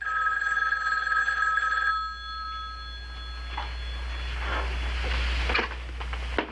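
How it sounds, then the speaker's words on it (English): A telephone bell rings steadily for about two seconds, then stops, leaving a low hum and some faint clatter and rustling, in a 1960s–70s TV sitcom scene. "The phone's ringing."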